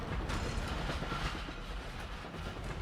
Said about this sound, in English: I heard the train.